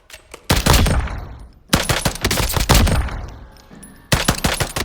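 A rifle fires in controlled bursts of quick, loud shots in the Warzone video game, two clusters of rapid taps with short pauses between them and a brief third burst at the end.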